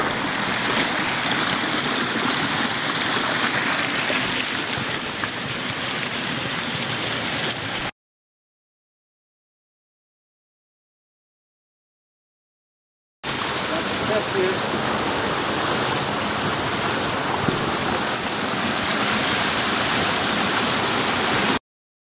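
Steady, loud rushing water from a waterfall beside a hiking trail on Mt Baldy, a dense continuous roar that cuts out midway and then returns just as strong.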